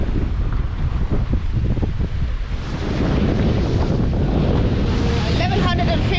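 Wind buffeting the microphone with the rush of a long ocean swell around a sailboat at sea near the equator, loud and steady throughout, growing stronger partway through.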